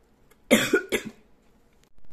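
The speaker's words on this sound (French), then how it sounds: "Désolée, j'avais besoin de tousser." A single close, sharp cough burst in two quick pulses, followed by near silence.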